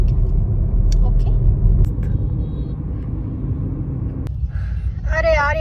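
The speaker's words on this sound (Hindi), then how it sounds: "अरे यार ट्रैफिक में फंसे हम लोग।" A car sits stuck in road traffic near Gandhi Maidan on the way to Boring Road, with a steady low engine and road rumble close by and brief voices and a horn-like tone breaking in near the end.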